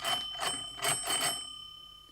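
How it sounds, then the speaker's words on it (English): Doorbell ringing in a children's story: a few bright metallic rings with sustained tones that trail off into a fading hum, heard alone with no voices. "and they rang on the bell."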